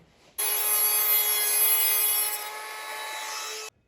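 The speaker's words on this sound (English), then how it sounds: "I'm going to use a rotary tool." A rotary tool whines at high speed while trimming model railway track, starting abruptly and running steady for about three seconds, close and fairly loud, with a slight drop in pitch before stopping.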